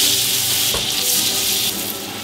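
Burger bun toasting in butter in a hot frying pan, a bright, hissing sizzle that holds steady throughout.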